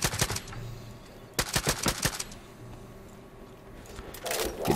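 A Far Cry 5 gunfight: rapid bursts of automatic gunfire at the start and through the middle, then a quieter stretch before more shooting at the end, all loud and close with no talk over it.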